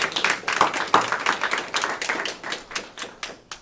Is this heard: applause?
yes